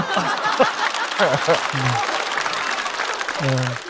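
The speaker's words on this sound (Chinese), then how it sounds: "这个是应该鼓掌的啊，你们可以鼓掌。" A stand-up comedy audience in China breaks into applause, a dense crackle of clapping mixed with chuckles and scattered laughter, while a voice talks over it in bursts.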